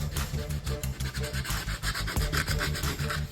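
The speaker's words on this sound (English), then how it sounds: "just work a bit of PVA in, like so, and just sand it" Sandpaper rubbing back and forth over oak worked with PVA glue and sawdust, a steady, close, continuous rasping scrub with regular strokes and no talk.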